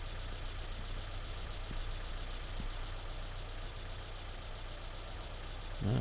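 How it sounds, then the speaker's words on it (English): Car engine idling in the PS3 video game Afrika during a cheetah hunt, a steady low rumble holding evenly throughout with no talk, rising slightly at the very end. "Well, I can still hear the car engine."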